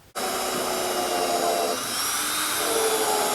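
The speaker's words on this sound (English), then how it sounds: "I'm going to pre-drill through my oak board" A power drill bores through an oak board, starting abruptly and running as a steady high whine for several seconds with a slight change in pitch partway, loud and close with no talking.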